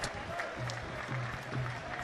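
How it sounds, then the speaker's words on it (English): Rugby stadium crowd at a Kandy SC versus Havelock SC inter-club league match keeps up a steady wash of applause and cheering after a big kick strays wide of the left upright, broad and continuous with a commentator talking over it. "Crowd still in appreciation because the connection."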